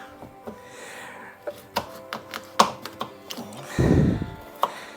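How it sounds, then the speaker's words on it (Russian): A knife chopping carrots taps steadily against a cutting board in quick, uneven chops, close and moderate in volume, with a brief rustling scrape partway through. "я начну нарезать наши овощи. Я займусь в первую очередь с морковки."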